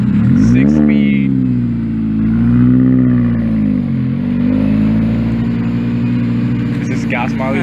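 A Mini Cooper S with a six-speed manual and muffler delete drives around a parking lot, its loud, raspy exhaust droning and swelling with revs, while people talk over it.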